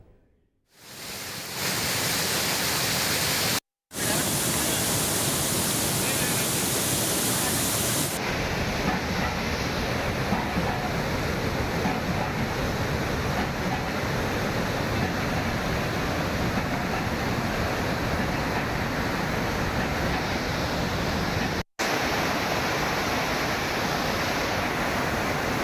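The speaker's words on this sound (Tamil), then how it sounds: "திருப்பூர் மாவட்டம் உடுமலை பஞ்சலிங்க அருவியில் வெள்ளப்பெருக்கு ஏற்பட்டுள்ளது." Panchalinga waterfall at Udumalai in Tiruppur district in flood, a dense, loud, unbroken roar of rushing water that fills the whole stretch, with two brief cuts to silence and a slight change in tone partway through.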